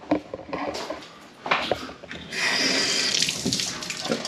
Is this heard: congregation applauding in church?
no